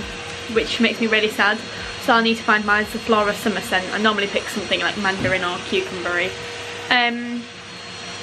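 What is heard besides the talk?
hoover vacuum cleaner running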